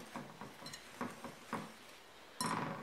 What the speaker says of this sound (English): Go ahead and whisk that in a little bit to get it started